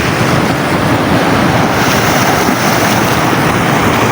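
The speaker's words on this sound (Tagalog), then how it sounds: "Kita nyo naman guys, oh, ang lalaki ng alon." Loud, continuous roar of big ocean waves breaking on a seaside shore, a dense wash of surf with steady wind noise and no voices.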